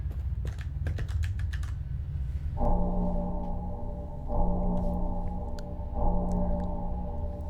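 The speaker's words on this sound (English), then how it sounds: "That's the sound of the rover closing the portal." A rover closing a portal in the video game Ghost Exile: a few quick clicks, then three humming electronic tones that repeat in steady pulses, fairly quiet.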